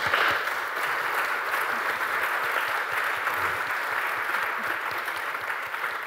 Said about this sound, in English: applause for the panel